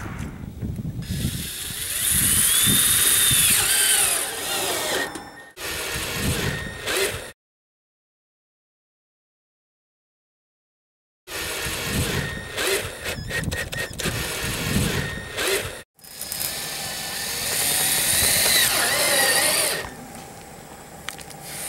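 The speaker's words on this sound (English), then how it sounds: "Use a 1/4 inch driver with this." Self-drilling screws are driven with a 1/4 inch driver into aluminum flashing while a solar fan is mounted on a roof. Loud, whirring bursts of the driver repeat, broken by a few seconds of silence in the middle.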